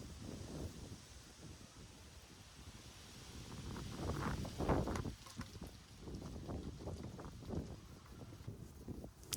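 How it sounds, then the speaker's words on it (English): Gusty outdoor wind buffets the microphone during Norway spruce bonsai styling, a low rumbling roar that swells and surges in uneven waves with no one talking. "Very windy day"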